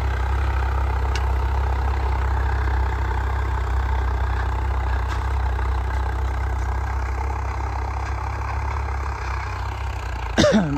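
A tractor engine, in a setting with Swaraj 855 and Mahindra 275 Arjun 555 tractors, runs at a steady low idle throughout, a continuous deep rumble with no voices, ending in a brief knock.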